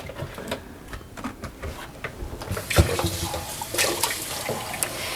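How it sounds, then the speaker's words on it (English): Water splashes and hisses into a hot pan, sizzling and bubbling louder after a few seconds of clattering kitchen noise. "I'm going to throw a little bit of water in there."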